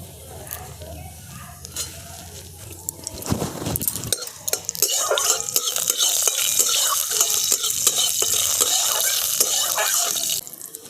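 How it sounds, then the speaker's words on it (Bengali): Panch phoron and dried red chillies hit hot mustard oil with a sharp burst, then settle into a bright, continuous crackling sizzle with utensil clinks. "ফোড়নে দিয়ে দিচ্ছি 5 ফোড়ন আর শুকনো লঙ্কা।"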